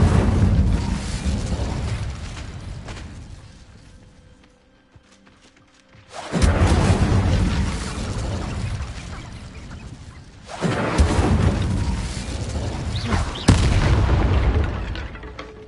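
Incendio fire-spell blasts from Hogwarts Legacy come in three loud roaring bursts separated by quieter gaps, each with a sharp onset and a rumbling tail.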